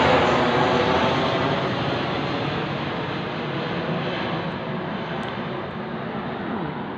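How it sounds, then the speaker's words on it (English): Low-flying airplanes pass overhead, a loud, steady broadband engine roar that fills the whole stretch and fades only slightly toward the end, with no voices. "Those planes look low and big to the naked eye"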